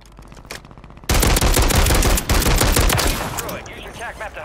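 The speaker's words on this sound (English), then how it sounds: "I'm running out of SMG bullets here." SMG fire in Call of Duty on Rebirth Island: after a quiet second, a loud, sustained rapid burst of submachine-gun shots runs for a couple of seconds, then thins into scattered crackles and rattling.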